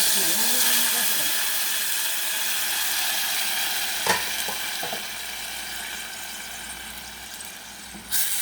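Blended spice paste with tomato sautéing in hot oil for a goat-meat semur, a steady close sizzle and hiss with a few clinks of a spoon against the pan.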